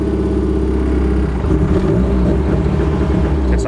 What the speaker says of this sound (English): Try to rev it now.